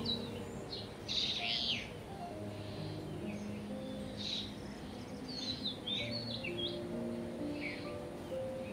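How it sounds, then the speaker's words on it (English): Birds sing and chirp in a forest, with bright, bursty calls scattered across the stretch over a quiet, steady ambient bed, moderately distant and soft. "The beautiful birds whose songs weave the fabric of the forest."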